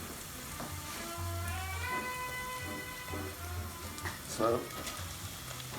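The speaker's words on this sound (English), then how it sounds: "we're going to put the bacon in" Bacon going into a pan of gently sautéing onions, a steady crackling sizzle running throughout with a few louder pops, while someone talks over it.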